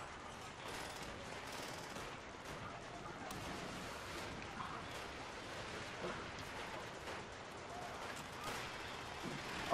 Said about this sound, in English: It's storming like a motherfucker